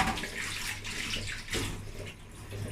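Tap water runs steadily over farm produce being washed in a small kitchen sink, a continuous close rushing and splashing with small shifts as the produce is handled.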